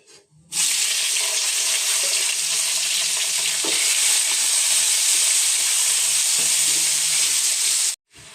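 Mango and pineapple pieces sizzle loudly and steadily in a hot pan with fried whole spices, a continuous bright hiss with faint stirring knocks, stopping abruptly near the end.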